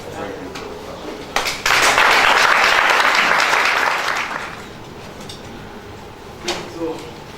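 A burst of applause from an audience at a business chamber event, rising suddenly to a dense, loud wash of clapping for a couple of seconds before fading into room noise and a few scattered claps.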